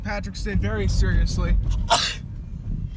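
A person sneezes once, a sharp burst near the two-second mark, close and loud inside a moving car amid talk and road rumble.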